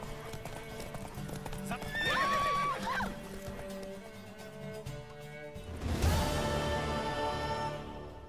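In The Witcher 3: Wild Hunt on PS4, a horse whinnies clearly in the foreground while hooves clop steadily, followed by a louder rushing burst, with music underneath.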